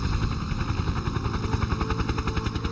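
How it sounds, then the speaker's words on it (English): Two US attack helicopters circle overhead in the video game Combat Mission: Shock Force, a steady loud rotor chop with pulsing beats and engine whine filling the whole stretch, no speech. "This time, there was not one, but 2 U.S. attack helicopters circling overhead."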